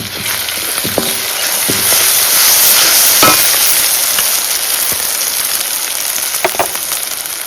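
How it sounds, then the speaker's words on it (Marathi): Loud, continuous sizzle and crackle of spices hitting hot oil for tempering, cooked over a wood-fired clay stove, with occasional clinks of a utensil against the pan. "आता फोडणी टाकतो"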